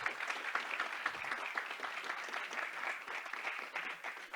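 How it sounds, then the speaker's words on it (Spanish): An audience at a panel session on artificial intelligence and emerging technologies claps for the panelists, a dense, even round of applause at moderate distance with no talking over it. "Quiero pedirles un aplauso para nuestros panelistas del día de hoy"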